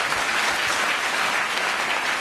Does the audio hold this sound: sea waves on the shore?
no